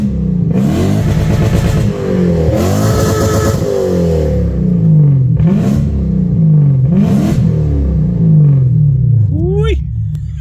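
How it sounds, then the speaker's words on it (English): Toyota Soarer's 1UZ V8 with an X-pipe exhaust, loud and close, repeatedly revved up and bouncing off the rev limiter in a few rhythmic bursts, the deep exhaust note rising and falling between each blip. "It wouldn't be an exhaust video without a couple of rev limited bashes"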